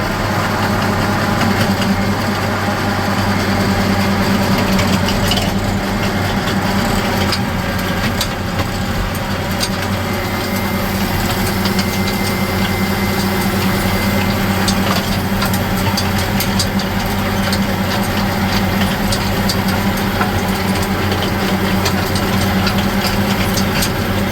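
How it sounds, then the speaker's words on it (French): A small McCormick tractor runs in a field during a first test with a Rau Maxem rapeseed seeder, its engine droning loud, close and unbroken with a steady low rumble and no speech. "On va pas mettre une vitesse trop haute parce que c'est un petit tracteur"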